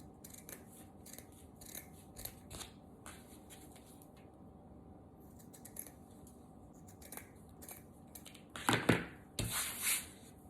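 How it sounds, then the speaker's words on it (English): Scissors snip excess ribbon string while a handmade bow is being finished, giving a few quiet clicks early on and then several louder, sharper close cuts near the end. "Cut off the excess string. You can cut the tails at an angle."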